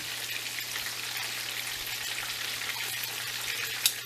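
Breaded chicken cutlets for parmigiana frying in oil in a pan, a steady close hiss and crackle, even and continuous, with no talk.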